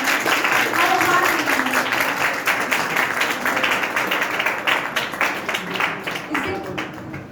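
Clapping from an audience at a school stage event, a loud burst of many hands that gradually loosens into scattered claps, with voices faintly under it.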